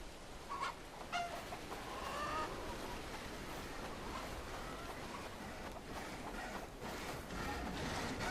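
Chickens clucking in the video game Bellwright, scattered short clucks and calls over a steady low ambient bed, fairly faint and irregular.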